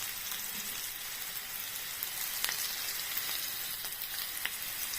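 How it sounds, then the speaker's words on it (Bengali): Pieces of katla fish frying in oil for doi katla, a steady close sizzle and crackle with a few sharper pops, no voices. "ভেজে নেব"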